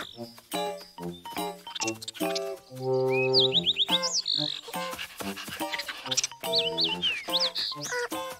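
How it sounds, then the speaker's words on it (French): A small cartoon bird chirps in quick high tweets over a busy soundtrack of sharp plucked notes and a sustained chord, with bursts of activity throughout. "Au revoir, petit oiseau."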